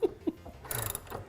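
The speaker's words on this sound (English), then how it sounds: "We're going to use a scissor jack just to pick the back of the bike up" A scissor jack lifting the rear of a GSX-R750 motorcycle gives a few short metallic squeaks and ratcheting clicks, followed by a brief rattle of mechanism noise, close and fairly quiet.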